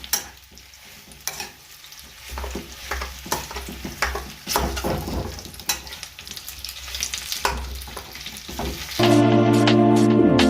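Dates roasting in a pan while being stirred, with a continuous crackling sizzle broken by repeated scraping strokes of the spoon, close and loud, before a sudden shift to a steadier tonal sound near the end.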